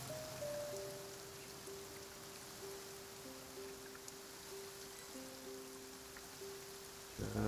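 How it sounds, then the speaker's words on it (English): Heavy rain falling in the video game Genshin Impact, a steady hiss of drops on surfaces that holds evenly throughout beneath low sustained musical tones, with no talking. "This heavy rain must be quite an inconvenience for you."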